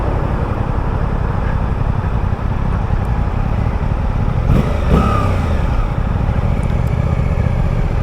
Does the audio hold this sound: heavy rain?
no